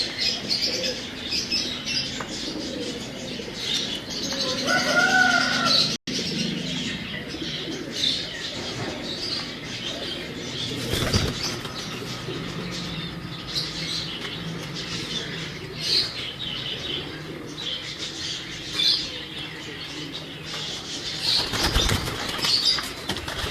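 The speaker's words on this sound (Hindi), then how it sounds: "अब टैडी कबूतर दिखा रहे हैं।" Wings flap in bursts as Teddy pigeons and other fancy pigeons take off and settle, with soft cooing and occasional chirps over a steady outdoor background.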